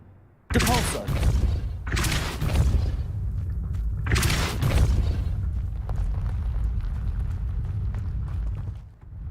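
A Depulso spell in the Hogwarts Legacy video game lands as several heavy, booming blasts in quick succession, followed by a lingering rumble.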